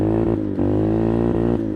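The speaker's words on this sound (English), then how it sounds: "it's basically revving the engine, but not really gaining any momentum" An old Yamaha Warrior 350 ATV with a slipping clutch, its engine revving loudly and steadily up close with brief dips between pulls, droning without gaining speed.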